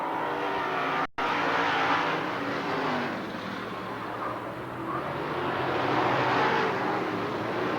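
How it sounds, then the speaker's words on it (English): Race cars on the Hickory Speedway oval in 1996, three cars sliding quickly through the turns, a steady, loud roar of engines that swells and fades slightly as they circle. "All 3 cars sliding quickly through 1 and 2"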